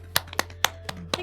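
A few separate hand claps, sharp and close, spaced irregularly over about a second, with a faint hum underneath.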